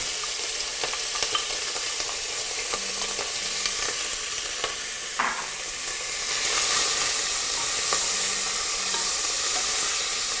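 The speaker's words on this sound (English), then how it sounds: "and it's going to sizzle." Bacon sizzles in a very hot pot, a continuous bright crackling hiss with scattered pops that swells slightly toward the end and runs on with no voices.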